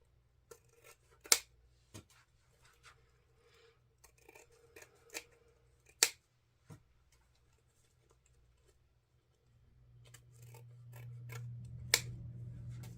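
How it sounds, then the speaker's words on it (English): Scissors trim the ribbon ends of a wreath bow with a handful of crisp, quiet snips spread irregularly, up close in a quiet room, while a soft low hum rises near the end. "grab your scissors and trim your ends"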